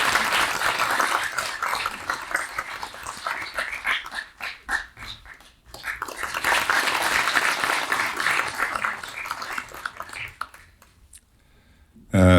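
An audience at a national press union launch ceremony claps in a dense burst that fades, swells again, then thins out before a voice begins at the very end.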